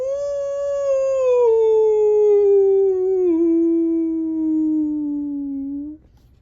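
A single long mournful howl, voiced by a person imitating a dinosaur and a dog in a children's storybook reading, a clear tonal wail that slowly falls in pitch and fades out.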